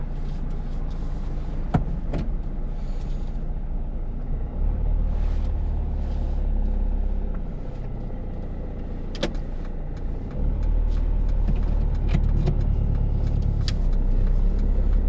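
A learner's car pulls away during a UK driving test, its engine a steady close rumble from inside the cabin with a few clicks and bumps, without talk.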